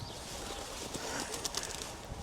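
A pigeon cooing on a New York City street, soft low coos amid city background noise with a few sharper sounds, no one talking.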